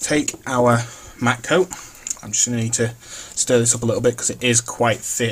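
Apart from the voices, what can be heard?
None of the usual background noises is heard.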